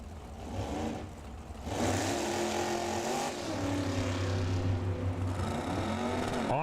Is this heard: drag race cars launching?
yes